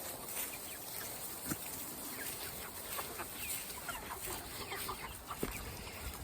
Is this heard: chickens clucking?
yes